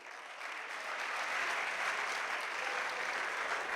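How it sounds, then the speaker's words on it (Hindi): Mushaira audience applauding a poet onto the stage, a steady, dense wash of clapping that swells slightly and holds, heard from some distance. "मोहब्बत के साथ अपने दिल से तालियों की गूंज में इस्तकबाल करके बुलाइए"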